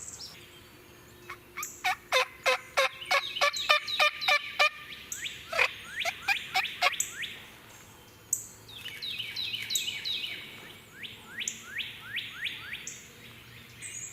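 Wild turkeys gobbling outdoors on a South Carolina hunt, rapid rattling bursts repeated in several bouts, fairly close and clear, with a few other bird chirps in the background.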